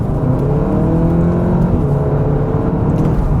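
A Volkswagen Golf R in sport mode accelerates hard onto a motorway, its engine note rising in a loud, steady drone heard from inside the cabin with no talking.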